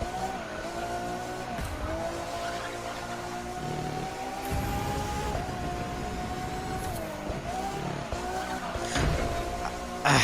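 A Ferrari race car in The Crew 2 video game roars on its final lap, engine note holding high and dipping through gear shifts, with tire squeal and skidding through corners, loud and continuous.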